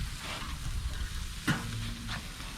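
Burgers and brats sizzling over an open fire, a steady close hiss with a sharp scrape or clack from moving the meat partway through.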